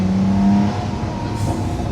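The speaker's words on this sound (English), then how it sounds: "we've still got a glorious naturally aspirated engine" Lamborghini Sian FKP 37 hybrid supercar with a naturally aspirated engine revving, a loud close engine note that climbs and then settles into a steady throbbing run.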